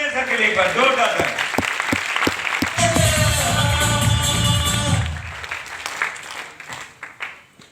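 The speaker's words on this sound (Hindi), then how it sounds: "जोरदार तालियां सबके लिए, एक बार जोरदार तालियां" An audience at a business event gives loud sustained applause, with dense clapping that swells under a shouting voice and then fades into a few scattered claps.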